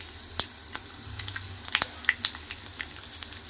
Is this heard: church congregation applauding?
no